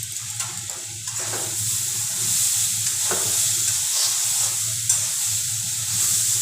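Eggplant frying in a pan for baigun bati gives a steady sizzle and hiss, broken by scraping stirs of a spatula. The sound is close and continuous, with no talking.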